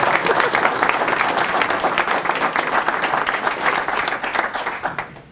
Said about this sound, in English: You guys should clap, because this is like history right now